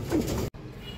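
A racing pigeon gives a short, soft, close coo lasting under a second, cut by a brief gap, with faint background noise after.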